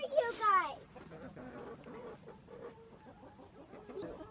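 Backyard chickens cluck softly in a low, scattered murmur close by, following a brief higher squawk at the start.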